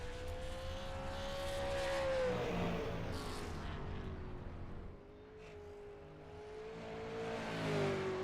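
Race car engine on a track in a sim racing game, a steady sustained drone that rises and dips in pitch as the car laps alone, fairly loud and continuous.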